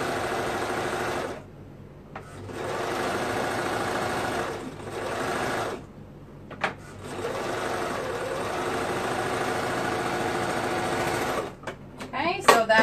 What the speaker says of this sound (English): Making sure that I'm grabbing both layers as I sew around.